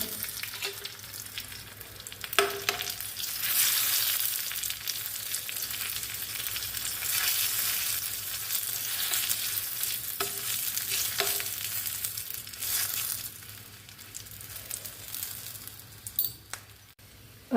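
Mustard seeds and chilies fry in very hot oil for a tempering, giving a loud, bright, continuous sizzle broken by a few clinks and stirring knocks, with no voices.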